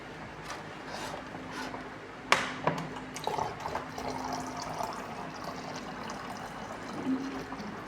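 Water poured into a plastic bottle with two holes, a soft continuous trickling and splashing with a few sharp knocks, fairly faint and close, no voices.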